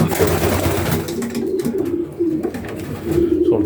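Pigeons cooing in a loft of spare cocks, loud close continuous low coos from several birds overlapping.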